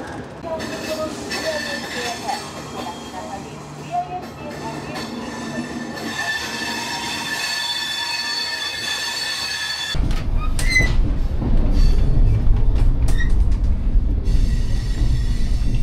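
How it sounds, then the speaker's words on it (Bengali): Falaknuma Express pulling out of Kharagpur, with wheels squealing on the rails and a steady metallic rumble that grows louder and heavier partway through as the train gathers pace. "খড়গপুর থেকে ট্রেন ছাড়লো"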